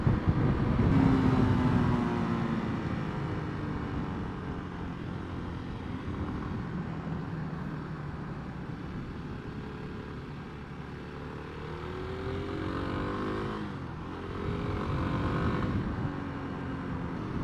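A Kawasaki KLX300 or Honda CRF300L dual-sport motorcycle pulls through its gears, a continuous engine drone rising in pitch, dipping briefly at each shift, with steady wind rush throughout.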